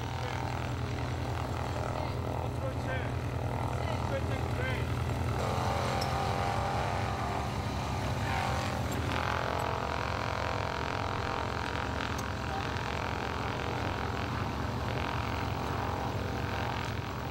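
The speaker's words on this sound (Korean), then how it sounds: "크고 무겁게만 여겨졌던 훈련기도 조금씩 몸의 일부로 느껴진다. 서툴기만 했던 이륙도 훨씬 부드럽다." A propeller-driven military training aircraft takes off, its engine drone steady and loud throughout, a constant low rumble with a broad airscrew roar that holds at full power.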